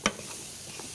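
Zucchini softens in a pan with a soft, steady sizzle, opening with one sharp clack of a utensil and faint stirring taps after.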